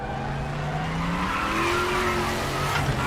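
Tyre lockup squeal under hard braking in the RaceRoom racing video game, Group C and Group 5 cars at the Norisring street circuit: a rising, sustained screech over engine drone, close and moderately loud.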